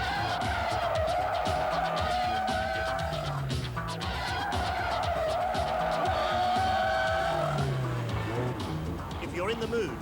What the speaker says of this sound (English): If you're in the mood for burning rubber on an airfield circuit, you can't beat Ford's new Sierra Cosworth